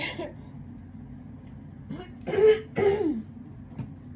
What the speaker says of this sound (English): I don't know why I feel the need to constantly clear my throat.